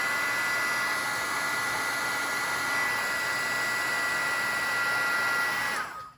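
A heat tool blows steadily and loudly as it reheats melted embossing powder, a constant whirring hiss with a faint whine that holds for about six seconds before cutting off abruptly at the end.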